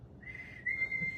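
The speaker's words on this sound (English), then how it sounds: "Blow the whistle." A single whistle blown in one steady, high, sustained tone lasting about a second, clear and close with no voices.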